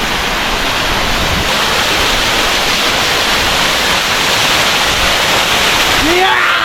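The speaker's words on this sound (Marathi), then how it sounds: "welcome to hidden waterfall" Hidden waterfall near Bham Dam in Ghoti, a loud, steady broadband roar of falling water that fills the whole clip without a break, with a brief faint voice-like sweep near the end.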